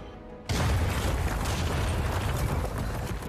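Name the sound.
explosion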